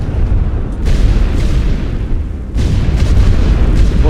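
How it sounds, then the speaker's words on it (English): A heavy artillery barrage in the World War One game The Great War: Western Front, with loud dense rumbling booms rolling continuously and swelling again partway through, with no talk. "Big artillery barrage and smoke is being deployed."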